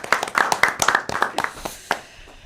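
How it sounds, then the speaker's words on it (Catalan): A small live audience in an outdoor garden setting gives a short burst of clapping that thins out to a few last claps, close and clear. "un aplaudiment al nostre públic, no?"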